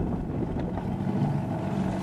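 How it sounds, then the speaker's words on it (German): Boat on the water near the coast easing to a stop, a steady low engine and water rumble with wind buffeting the microphone, no voices. "jetzt müssen wir das Boot wieder anhalten"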